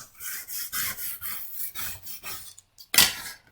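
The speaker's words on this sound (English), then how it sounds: "Now I'm going to turn this over and burnish really well." Paper on a mini album cover being burnished with a hand tool, giving repeated soft rubbing strokes in a steady back-and-forth rhythm, close and fairly quiet, ending with one sharper scrape.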